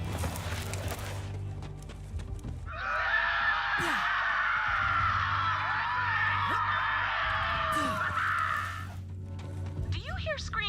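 Screaming from Borderlands game action: a dense, sustained chorus of shrill cries rises mid-clip and holds for several seconds over a low background drone, with someone speaking at the start and end.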